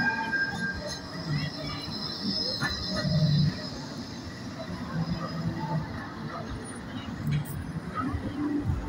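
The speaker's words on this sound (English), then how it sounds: "we've got the tram going to Fleetwood Ferry" A Blackpool tram rumbling along the promenade on an evening in late October, a steady rolling hum of wheels on rail with faint squeals, beneath a busy crowd and voices nearby.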